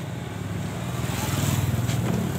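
A Honda Scoopy 2021 scooter engine is started, then idles nearby with a rough, pulsing low putter that grows slightly louder over a couple of seconds.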